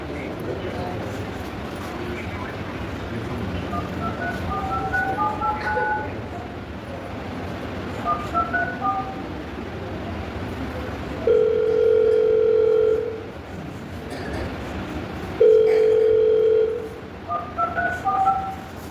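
Soft phone keypad beeps sound twice, each followed by a steady dial tone lasting about two seconds, with quiet background noise between.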